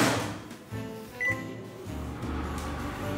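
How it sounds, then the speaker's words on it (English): A microwave oven running while softening butter, giving a steady low electrical hum with faint rattling and a short high beep partway through, heard up close without any talking. "put this butter in the microwave to soften it a little bit"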